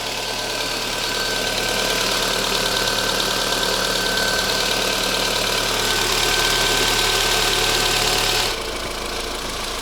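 Volkswagen Golf IV with the 1.6 AZD petrol engine, serviced for oil in the exhaust manifold, idles steadily close by: an even, continuous hum with a faint ticking rhythm and a slight drop in tone near the end.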